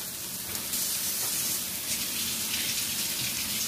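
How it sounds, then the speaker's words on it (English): Running tap water splashing over mushrooms being rinsed in a kitchen sink, a steady close hiss of flowing water with no talk. "We are going to add some mushrooms. So let me rinse a few of these off."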